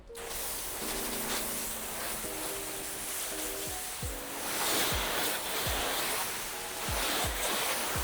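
Water sprays steadily over a soap-covered, coated car during a rinse, making a loud continuous hiss and splash that runs unbroken throughout with no voices.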